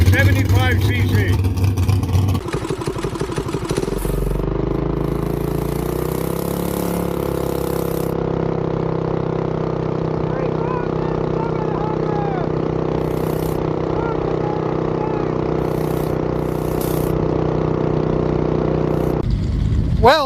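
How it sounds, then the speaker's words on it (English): An original, unmodified old 75cc mini bike engine runs steadily at idle, then revs and settles into a constant hum for about twenty seconds, with people talking over it. "It's an original old motorcycle, mini bike."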